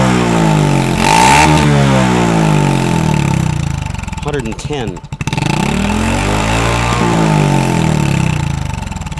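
A Honda Super Cub fitted with a Takegawa P-Shooter exhaust revs hard and close, its engine note rising and dipping through sweeping pitch changes, with someone talking over it.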